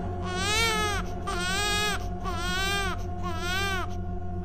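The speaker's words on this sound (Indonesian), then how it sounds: "suara tangisan bayi." An infant crying in four repeated wailing bursts, each about a second long with short breaths between, close and steady, used as an eerie horror-story effect set in an Islamic boarding school at night.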